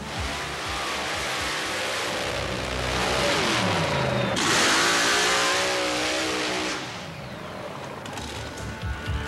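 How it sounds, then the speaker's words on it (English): Mud racer with an all-aluminum 588 cubic inch nitrous-burning engine revs hard at a mud racing event, a loud sustained roar that climbs and swells in the middle before easing off, with no talk. "An all-aluminum 588 cubic inch nitrous burning engine built by Jerry Janke has helped pilot George"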